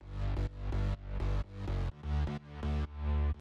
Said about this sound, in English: Now this is where I was at with the bass stack.